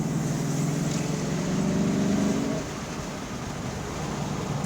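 Engine of a 1994 Ford Mustang Cobra while driving, downshifting into third gear: a steady droning engine note with a low rumble, which shifts and drops in pitch midway as the gear changes, under constant road and wind noise.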